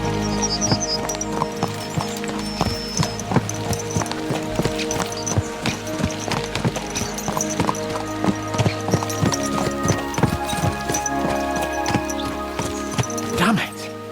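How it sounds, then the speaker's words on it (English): Rhythmic clip-clop of horse hooves at a quick pace in the video game Kingdom Come: Deliverance II, steady and close, with music-like tonal layers and busy background noise throughout. "Let's really spur these horses on, eh?"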